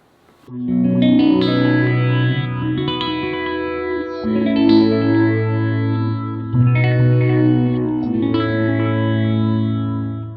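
Sustained guitar chords through an envelope sweep pedal with the speed turned down and depth up, a swirling, sweeping modulation, shifting between a few chords over about ten seconds.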